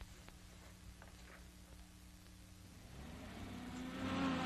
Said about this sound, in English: A jeep with ammunition trailer comes ashore